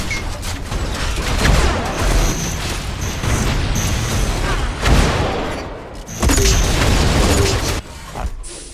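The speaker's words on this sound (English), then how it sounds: "Nice succession of shock rifle primaries here." Shock rifle primary fire in Unreal Tournament, a dense run of sharp booming shots layered over constant loud game noise, with brief tonal beeps and no clear pauses.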